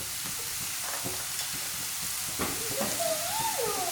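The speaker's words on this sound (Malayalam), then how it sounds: "ഇതൊന്ന് നന്നായിട്ട് തന്നെ ഇളക്കി കൊടുക്കാം" Vegetables with salt being stir-fried for egg fried rice, a steady close sizzle with scraping stirs, and a brief whistling steam tone near the end.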